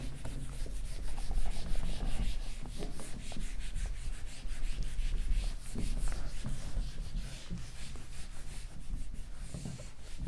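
Writing being rubbed out from a board during a math lecture: a steady, continuous scrubbing and rubbing, close and moderately loud, running unbroken for about ten seconds with no talk.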